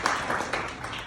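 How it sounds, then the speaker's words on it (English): A short burst of crowd applause, dense clapping from many hands, fairly loud and steady throughout. "So let's give a round of applause to Anthony Wall."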